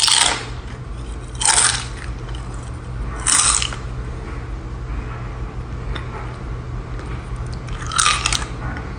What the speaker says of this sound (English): I literally made a video and then I did a voiceover of me crunching